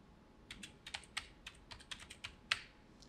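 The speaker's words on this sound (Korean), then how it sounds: "이제 특수 문자를 타이핑해 보도록 할게요." Keys clatter on a computer keyboard in a quiet room, a dozen or so light, irregular taps spread over a few seconds, close and faint with no talk.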